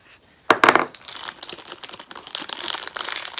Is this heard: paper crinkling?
yes